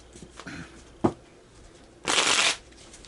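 A deck of cards is shuffled up close: light flicks and a sharp tap, then a dense half-second riffle, with no talking.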